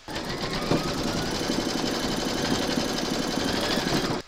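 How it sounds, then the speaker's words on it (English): An embroidery machine stitches the outline of a large skeleton applique in a continuous, loud, even whirring run of rapid needle strokes that cuts off sharply at the end. "Then we're going to pop our hoop into our machine and stitch round number 3"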